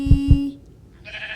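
A cartoon donkey in a children's farm-animal app gives a short braying call, two quick harsh pulses trailing into a nasal tone, played loud and close with no talking.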